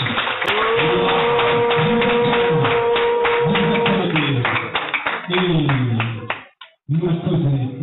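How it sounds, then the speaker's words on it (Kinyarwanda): Wedding guests at a reception in Rulindo applaud the bride and groom with steady rhythmic clapping, loud and close, while voices sing and call out over it. The clapping breaks off briefly near the end. "twese tubakira amashyi menshi"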